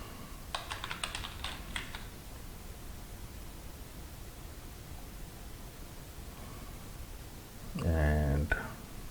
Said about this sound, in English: You can type in your master password for your admin user.